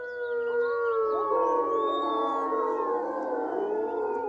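Several wolves from a pack howl at once, their long overlapping tones gliding up and down in a continuous chorus that stays fairly loud and unbroken, with no speech.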